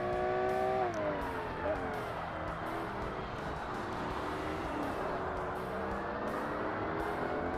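Race car engine in Forza Motorsport on hard difficulty in the professional R-GT class, a steady loud drone with pitch sweeps as it shifts and revs through a corner, continuous for the whole stretch.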